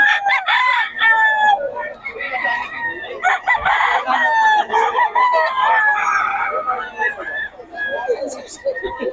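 Several roosters crow repeatedly and loudly over one another, with hens clucking on a farm, while people talk over them throughout.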